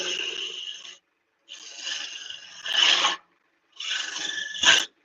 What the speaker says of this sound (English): I'm skipping back because I'm not presenting the gouge